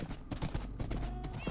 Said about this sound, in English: my horse keeps insisting on neighing while I'm trying to run and stopping